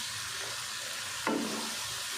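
Spices and chana dal with karela frying in a pan over a low flame, a steady soft sizzle broken by one brief stirring scrape midway, close and continuous with no talk.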